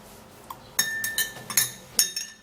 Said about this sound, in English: I'm going to be scooping in the yogurt into this glass of milk